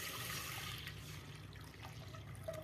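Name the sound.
water poured into pressure cooker with dal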